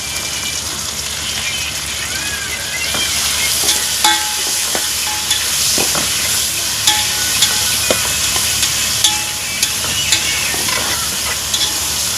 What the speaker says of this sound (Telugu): రెండు రెప్పలు కరేపాకు కూడా వేసుకున్నాం